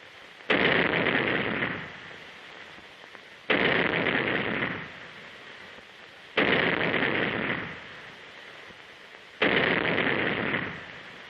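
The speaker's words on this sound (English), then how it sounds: "The cadets demonstrate their proficiency by firing the 3-inch gun in record time." A 3-inch naval gun fired by Coast Guard cadets in rapid succession: four heavy booming shots spaced about three seconds apart, each with a long decaying rumble, loud and close with no voices.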